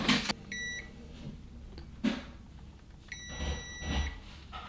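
Multimeter in continuity mode testing a switch on an electronic drum kit, two clear sustained beeps, each about a second long, separated by handling clicks and faint rustling.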